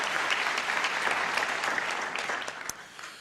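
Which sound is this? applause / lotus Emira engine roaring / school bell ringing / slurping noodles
applause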